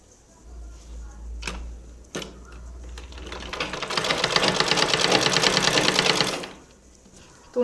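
A sewing machine runs steadily for about two and a half seconds, stitching a quarter-inch folded hem on the bottom edge of a churidar, with a dense rapid needle rhythm after a few soft handling clicks.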